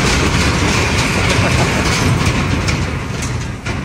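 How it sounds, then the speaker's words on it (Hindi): A loud, steady train rumble as it crosses a bridge, with rhythmic clattering of wheels over the track, continuous and close throughout. "ये एक ब्रिज आया, आवाज़ सुनिएगा ज़रा क्रॉस करते वक्त।"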